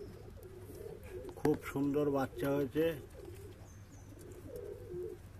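Pigeons in a high-flying breeding loft, including a black-green pair with a chick, let out a loud burst of rolling, throaty coos up close, while someone talks quietly before and after.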